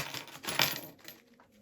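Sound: coins or badges rattling in a lost parcel

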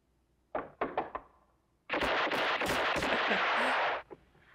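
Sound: gunshots in a western movie scene

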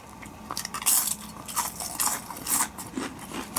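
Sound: crunching crispy potato chips

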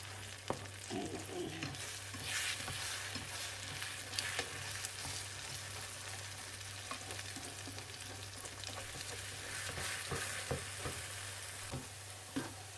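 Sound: eggs frying in a pan for an omelette

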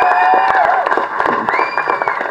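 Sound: audience applause and cheering at Tamil movie press meet

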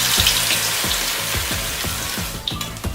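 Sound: vada batter frying in oil

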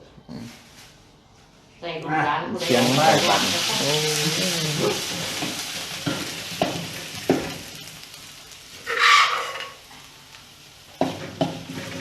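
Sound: oil sizzling in a hot pan

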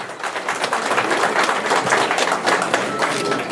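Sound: wedding guests applauding

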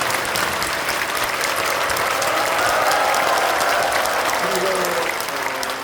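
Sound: church congregation applause

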